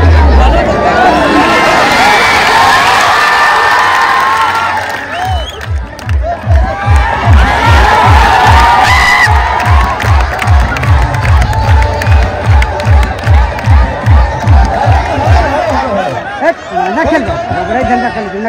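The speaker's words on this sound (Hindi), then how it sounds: "एक बार जोरदार तालियों से स्वागत किया।" A crowd at a village kushti wrestling bout cheers and claps loudly, a mass of voices and shouting, followed by steady rhythmic group clapping as an announcer's voice carries over the noise.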